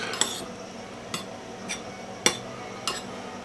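Spoon scrapes and clinks against a dish while olive oil is mixed into a tomato and eggplant casserole topping, a handful of faint, irregular taps with quiet pauses between.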